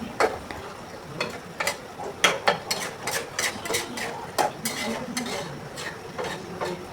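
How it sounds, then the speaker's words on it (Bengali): A spoon stirs a curry of okra, long beans and shrimp in a pot, producing repeated close scraping and clinking strokes in an irregular rhythm over a soft simmer. "ঝোল দেওয়া হয়ে গেলে এখানে আমি আবারও একটু নাড়াচাড়া দিয়ে 10 থেকে 15 মিনিট সময় নিব।"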